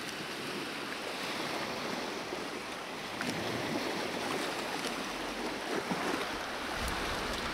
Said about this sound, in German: weil die Wellen ja da teilweise drüber schwappen und die kommen so im 6-7 Sekunden Takt an